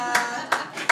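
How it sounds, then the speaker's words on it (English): Scattered clapping from a stand-up comedy club audience, a few separate bursts of hands striking, moderately close and fairly faint in a quiet room. "Don't clap so loudly to that."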